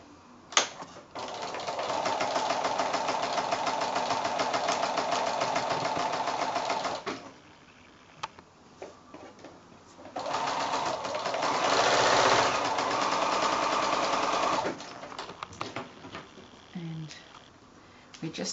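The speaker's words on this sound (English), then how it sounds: "So now I'm going to go back to the sewing machine and sew those two diagonal lines." A sewing machine stitches two diagonal lines across 5-inch quilt squares for a house block, running steadily in two long bursts with a pause between them, close and fairly loud.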